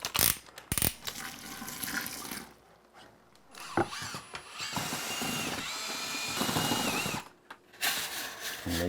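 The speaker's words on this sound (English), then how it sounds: "I'm going to use this mixing wand with a drill." A power drill fitted with a mixing wand churns joint compound in a bucket for a long, sustained whirring stretch after a couple of short opening bursts, with brief pauses between.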